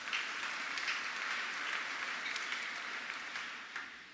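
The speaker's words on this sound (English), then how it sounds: "Shall we give them a round of applause" An audience claps steadily for visiting clergy, Cardinal Charles Brown and Archbishop Jose Palma, on Divine Mercy Sunday. The applause is dense, fairly soft and even, and tapers slightly at the end, with no talking over it.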